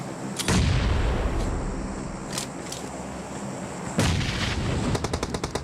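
Loud blasts and gunfire in a PUBG Mobile match, with a grenade explosion among booming shots near the start and another heavy burst around the middle, followed by rapid repeated gunshots at the end.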